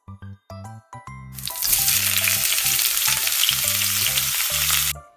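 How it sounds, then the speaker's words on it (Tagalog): Garlic and onion drop into oil left from frying eggs and sauté with a loud, close, continuous crackling sizzle that starts abruptly after a few clicks, while steady background music plays throughout. "Magigisa na rin dito ako ng bawang sibuyas."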